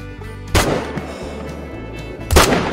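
Two loud rifle shots in theHunter: Call of the Wild, spaced nearly two seconds apart, each a sharp crack with a booming low tail over steady ambient noise.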